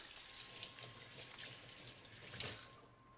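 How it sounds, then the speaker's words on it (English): Tap water runs steadily into a kitchen sink as hands are washed during family meal prep, a soft continuous splashing with a few brighter splatters, faint and alone. "give your hands a wash"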